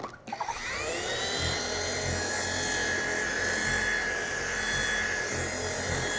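A machine polisher spreads Koch Chemie P1.01 polish on a car at its third-to-fourth speed, starting with a few brief bumps and then settling into a steady close whirring whine with a low hum underneath.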